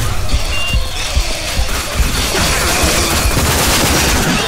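Gunfire in the video game RAGE: sustained bursts of rapid shots blend into a dense, loud barrage that runs unbroken throughout, with heavy low rumble beneath.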